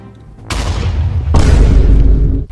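Two heavy TNT explosions in Minecraft launch a player skyward, each a loud, close boom with a sharp onset and rumbling low-end tail, the second following about a second after the first.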